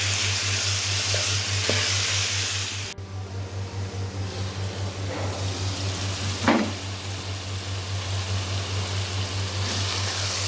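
Minced chicken keema frying in a pan for a Delhi-style bhuna keema with potatoes, a steady close sizzle with a few stirring scrapes, under a constant low electrical hum and with no talk.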